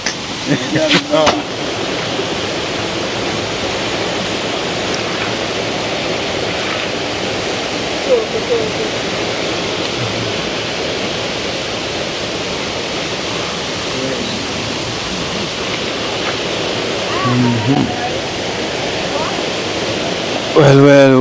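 Water runs steadily and loudly as someone washes off in a bathroom. The hiss is broad and constant, with brief knocks and handling noises near the start and the end.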